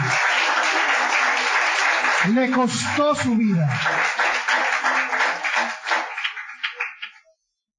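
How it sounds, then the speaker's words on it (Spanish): A church congregation applauds loudly throughout a sermon on the Jewish Passover, the dense clapping running under a voice speaking in Spanish before it thins out and stops near the end. "¿Merece un aplauso a Jesús por eso?"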